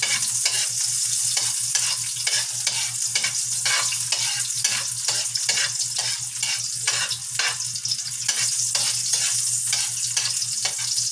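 Sardines and a little red onion fry in a pan with a steady close crackling sizzle, overlaid by a regular rhythmic scrape of stirring that repeats about once a second throughout, with no talking.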